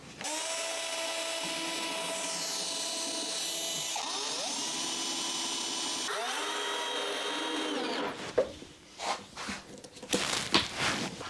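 Power drill driving screws into a small wooden planter box, a steady whining motor hum that bends in pitch as each screw seats, then breaking into short bursts and clatter near the end.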